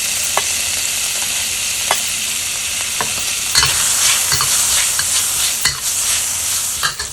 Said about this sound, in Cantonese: 開爐，先嚟爆香嗰啲煙肉先啦